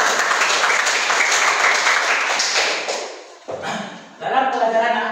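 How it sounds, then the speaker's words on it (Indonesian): A classroom of students claps and applauds together for several seconds, the clapping fading briefly before a second burst of applause. "Tepuk tangan untuk kawan kita."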